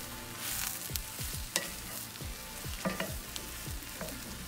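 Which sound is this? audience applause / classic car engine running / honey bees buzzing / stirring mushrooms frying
stirring mushrooms frying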